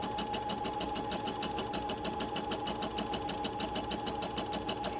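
Sewing machine zigzag stitching along a fabric edge, a steady fast mechanical whirring and rapid needle chatter running continuously and close.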